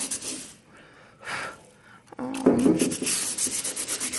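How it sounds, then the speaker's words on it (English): Sandpaper rubbed by hand over a chalk-painted wooden headboard, heard in close, uneven scratchy strokes with short pauses, growing busier and louder toward the end. "So sandpaper's kind of fun because you can just do it wherever you want."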